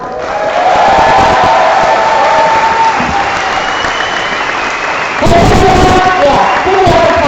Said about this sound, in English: give me another applause for Dale.